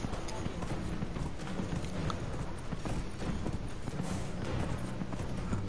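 Hooves clop in a fast, rhythmic gallop as a horse runs in the Dragon Age Inquisition video game. The galloping goes on steadily under a busy mix of game sound.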